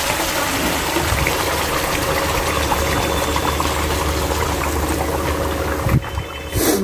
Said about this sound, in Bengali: সেই জলটাই আমি ঢেলে দেবো